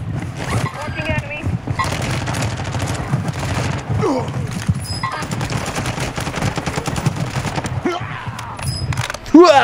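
Sustained automatic MP5 submachine gun fire and scattered shots in Warzone 2, dense rapid bursts running throughout under excited talking, with a sudden loud hit at the very end.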